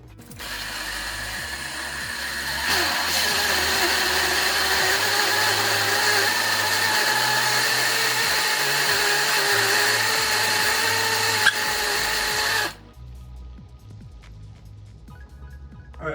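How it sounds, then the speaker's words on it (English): A blender whirs steadily, blending jalapenos and other chili ingredients for a batch of chili, a loud continuous motor drone that runs for about thirteen seconds before cutting off abruptly into near silence. "put all that in a blender, blend this whole thing up"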